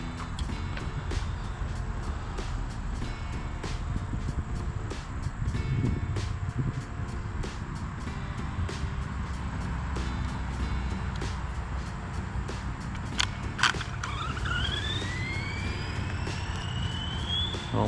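Tamiya TT-02B RC speed buggy running at high speed, a steady whining motor and gear drone that holds constant with a brief sharp knock and rising tone near the end, no talking.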